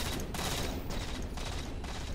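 Gunfire in the Halo 4 match, a handful of loud, evenly spaced shots, about four, each ringing out and decaying into a dense background of game noise, with no voices.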